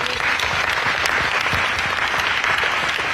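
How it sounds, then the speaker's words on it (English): Applause from an audience at a live Wake County sheriff candidate forum in North Carolina, a steady wash of many hands clapping at close range, sustained evenly for the whole stretch with only faint crowd murmur beneath. "Everybody that had a hand in doing this, give them a round of applause, please."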